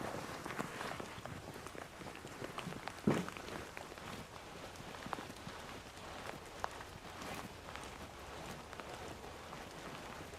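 Rain falling outside, a steady dense patter on surfaces lasting throughout with no pause, plus one brief knock partway through.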